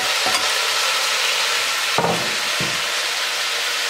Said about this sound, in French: Et on va faire revenir encore avec l'oignon pendant à peu près 3 minutes